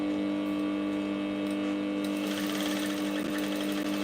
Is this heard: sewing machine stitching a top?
yes